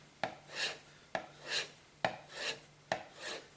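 Four evenly spaced strokes of a chisel being rubbed on a scrap of MDF coated with sharpening compound, each a sharp tap followed by a soft rasping pull, quiet and close with no talk.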